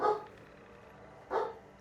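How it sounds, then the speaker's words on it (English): A dog named Onyx barks twice, a short burst at the start and another a little over a second later, at moderate distance against a quiet background with no talking. "Onyx's barking's gonna be worse now that Mum's not in"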